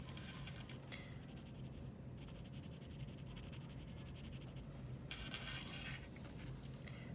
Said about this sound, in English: There's some little shadows here from her eyelashes, so I'm going to kind of draw them in.